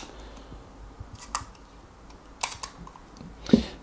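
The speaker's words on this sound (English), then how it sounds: "cock the shutter, another blank image, hold the lever, advance the film two more times" Kodak Signet 40 camera being worked by hand: a few sparse mechanical clicks and ratchets from the film advance lever and shutter cocking, close and fairly quiet, with no talking.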